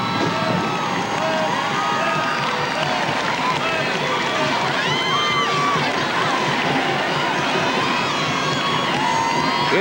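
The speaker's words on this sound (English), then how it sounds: "But now the Mendon side has a reason to stand and cheer." A 1991 high school football game between Mendon and Lake Linden, where a stadium crowd of Mendon fans roars and cheers in a dense, continuous wash of noise under an announcer's talking, with shouts rising throughout.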